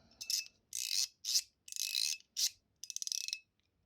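A mechanical fidget slider clicks close to the mic in six short bursts of snappy clacks, the last a fast ratcheting run of separate ticks.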